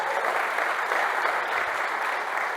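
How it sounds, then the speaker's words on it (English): An audience claps steadily for a few seconds at a professional talk event, dense even applause from a crowd close by. "Round of applause for our team for doing it."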